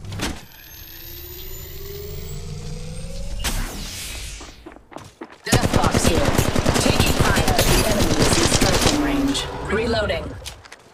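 Rapid gunfire from an Apex Legends firefight, loud bursts of shots crackling continuously for several seconds after a quieter opening, with other in-game noises mixed in.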